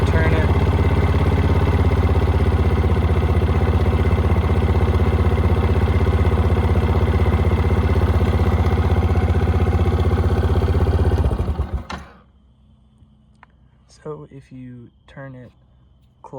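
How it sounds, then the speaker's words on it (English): A loud, steady Baja 90 ATV engine idles with a low throbbing rumble, then shuts off abruptly; afterward a person speaks in the quiet. "the engine is going to idle at a lower RPM"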